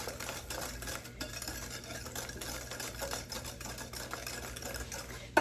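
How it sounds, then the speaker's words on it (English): A spoon stirs pumpkin pecan pie filling with eggs in a bowl, giving close, steady rhythmic scraping and soft clinking over a low background hum, with no talking. "And stir it all together. with the eggs."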